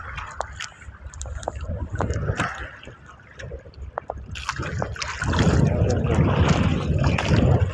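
Strong southerly wind gusts blow over choppy Manila Bay waters along the boulevard, a broad rushing roar that swells louder in the second half with lapping water beneath.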